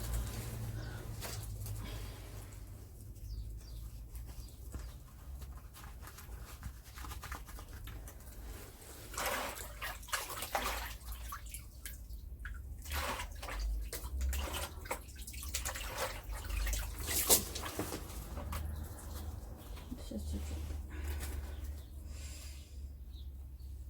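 Water poured onto bare-root Aster dumosus planting in several pours, a continuous splashing wash with irregular louder bursts, birds faintly in the background.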